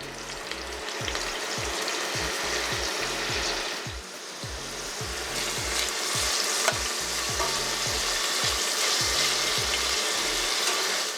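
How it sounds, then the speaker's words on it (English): Pork loin sizzles steadily in olive oil in a pan, a continuous crackling fry that runs for the whole stretch. Low rhythmic thumps repeat underneath it. "So olive oil in the pan. And I'm going to throw our pork loin into that."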